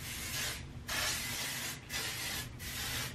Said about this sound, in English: I'm gonna put a little bit of hairspray in.